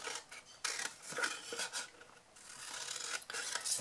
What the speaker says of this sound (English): you're going to cut down to the second score line